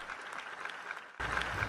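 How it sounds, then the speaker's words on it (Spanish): A standing ovation for an attorney general at a national assembly: continuous crowd applause, moderate in level, swelling noticeably louder for the last half second. "este aplaudió de pie al fiscal"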